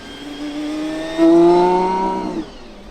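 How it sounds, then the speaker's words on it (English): The GMA T.50 supercar's engine while cruising, a loud, clear rising whine that swells, holds its tone, then eases off at the end. "just cruising around, that engine is sensational"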